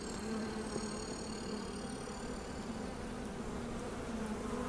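Bee-like insect buzzing steadily and up close in the video game Europa, a continuous drone holding alone at an even level throughout.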